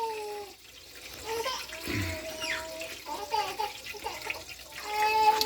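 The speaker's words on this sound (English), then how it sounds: "Dump a little cold water down in there." Cold water is poured down into the holes of a coffee maker, a close, gurgling trickle that swells and splashes unevenly over several seconds.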